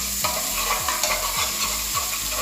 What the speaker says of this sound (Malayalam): നല്ല ജിഞ്ചർ ഗാർലിക്ക് ചേർത്ത് കൊടുക്കുന്നുണ്ട് അതൊന്ന് വാട്ടിയെടുക്കട്ടെ